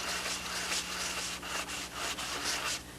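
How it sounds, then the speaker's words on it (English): A sanding block rubs back and forth along the edge of a Spitfire mold in continuous, even scratchy strokes, close and steady throughout with no talk. "Just block sanding this off because I want to get a nice edge right along the edge here"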